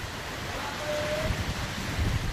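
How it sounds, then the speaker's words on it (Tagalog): Strong typhoon wind buffeting the area in Las Piñas City, a continuous blustery roar with surging low gusts, loud and close, rising toward the end. "Yung hangin na nakakatakot, malakas."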